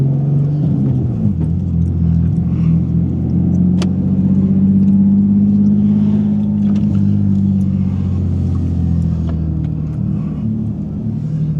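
A Nissan 370Z engine hums steadily from inside the cabin while driving, a low droning rumble with slight shifts in pitch and a few small clicks.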